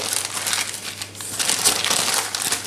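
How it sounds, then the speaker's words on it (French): Baking paper crinkles steadily as a potato and smoked salmon roll is rolled and tightened inside it, with close, dry crackling bursts throughout and no talking. "à l'aide du papier, je vais rouler mon roulé"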